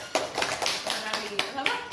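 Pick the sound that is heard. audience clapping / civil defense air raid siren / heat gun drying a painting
audience clapping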